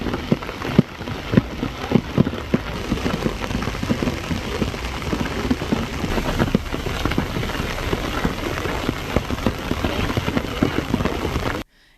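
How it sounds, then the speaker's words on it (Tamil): Heavy rain falls across the Dindigul and Oddanchatram area of Tamil Nadu, a dense, steady patter of drops striking surfaces close by, with sharper individual splashes scattered throughout before it cuts off at the end. "திண்டுக்கல், ஒட்டன்சத்திரம் மற்றும் அதன் சுற்றுவட்டார பகுதிகளில் பரவலாக மழை பெய்தது."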